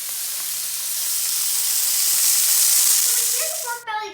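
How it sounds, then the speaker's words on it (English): Pork belly seasoned with salt and pepper sears in a cast iron pan, giving a steady, loud, close sizzle that swells and holds before dying down abruptly near the end. "I seasoned it with salt and pepper, and I'm gonna sear it on both sides in the cast iron."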